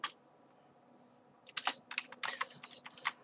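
Keystrokes on a computer keyboard while writing a blog post on Blogger, a quiet pause and then a quick irregular burst of close clicks.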